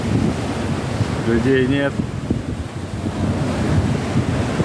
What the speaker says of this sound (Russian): Волны бурлят. Море шумит.